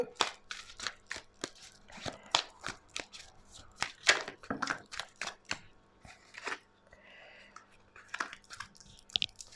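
Tarot cards being shuffled by hand close up, with sharp, irregular bursts of crisp riffling and slapping that come and go throughout.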